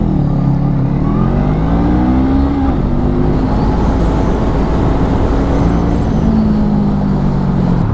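A Honda CMX 500 Rebel 500cc cruiser motorcycle accelerating on a road, its loud, close engine rising in pitch through several gears with a steady roar of wind and road noise.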